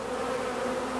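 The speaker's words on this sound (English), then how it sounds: "there are bees constantly coming and going here at the entrance to the hive" Honeybees hum in a dense, steady buzz at a hive entrance where foragers come and go, the drone close and continuous without a break.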